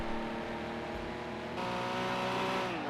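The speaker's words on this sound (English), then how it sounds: "Martin is going to come up the line in 7th place in his Porsche" A Porsche Group 5 race car engine in Project Cars 2 at Sugo, droning loudly and steadily with a rich harmonic whine, shifting pitch midway as it crosses the line.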